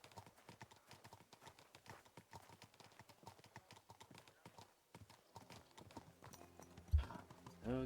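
Horse hooves clip-clop at a steady walking rhythm in the medieval role-playing game Kingdom Come: Deliverance II, fairly close and continuous under game ambience, with a louder thump and rise in noise near the end.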